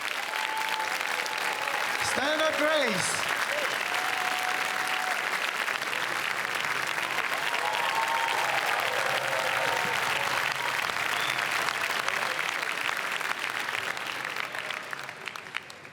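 An audience on the Cannes red carpet applauds in a dense, sustained wave of clapping that lasts the whole stretch, with a voice speaking briefly early on and the applause thinning slightly at the end.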